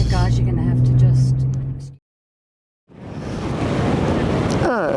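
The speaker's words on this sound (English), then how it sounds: "I don't know if you can hear me over the wind" Strong wind roars across sand dunes near Walvis Bay, a loud broadband rush with the sound of surf, cutting out briefly midway and then returning just as hard.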